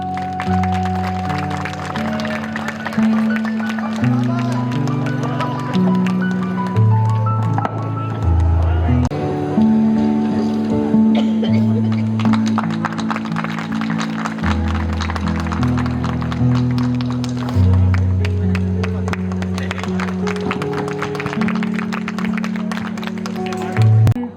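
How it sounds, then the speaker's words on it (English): Crowd applauding at a school alumni reunion as a bishop is welcomed, continuous clapping blended with loud music and sustained tones throughout. "Please clap thunderously."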